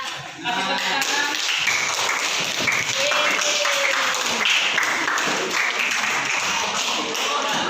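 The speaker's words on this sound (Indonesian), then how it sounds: "Kasih tepuk tangan." Students in a classroom clapping together, a loud, dense burst of hands that starts abruptly and holds steady for several seconds, close and reverberant.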